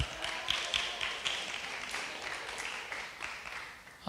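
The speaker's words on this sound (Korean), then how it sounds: "우리 박수 한번 하겠습니다" A room full of people at a church Friday prayer meeting claps together in a brief burst of applause, the patter thinning out toward the end.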